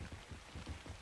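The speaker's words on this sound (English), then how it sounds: "It's raining over here." Steady patter of rain falling in a survival video game, a soft even hiss with faint low drumming on surfaces throughout.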